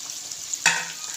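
Coarsely ground green chillies drop into a hot karahi of chicken and tomato, setting off a sudden loud sizzle that keeps hissing steadily under the ongoing frying.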